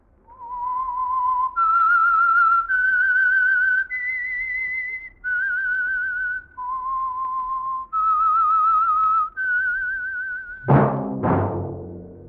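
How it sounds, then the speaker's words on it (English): A clear, loud whistled melody of sustained stepped notes, the eerie theme of the Signal Oil radio mystery drama The Whistler, played alone before a sharp orchestral chord stab at the end. "That whistle is your signal for the Signal Oil program, The Whistler."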